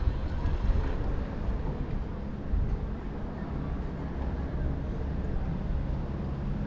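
A warm breeze blowing across the water at a women's rowing training session in Cambrils, heard as steady, low rumbling wind noise on the microphone, continuous and fairly loud throughout with no talking.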